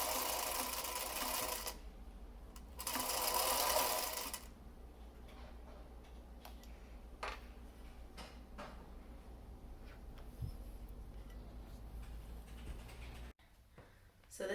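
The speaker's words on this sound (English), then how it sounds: "Now I'm going to sew it along this edge." A sewing machine stitches along the edge of a fabric face mask in two close whirring bursts, then falls quiet except for light clicks and handling noises.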